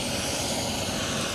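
An air ambulance helicopter near Braden School Road in Chippewa gives off a steady, loud broadband roar of rotor and engine, continuous and without any voices.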